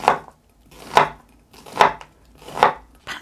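A knife chops half an onion on a cutting board for a cheonggukjang stew, four sharp, evenly spaced thuds close up with a short pause between each, no talking.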